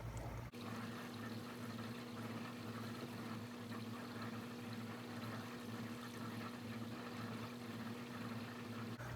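A DC Orlushy aquarium wave pump moves water with a continuous low steady hum and faint rushing, quiet and constant throughout, with no talking.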